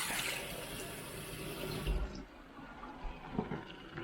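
Cooked noodles are rinsed under a running kitchen tap, a close, steady rush of water that cuts off abruptly midway, followed by faint clatter and splashes.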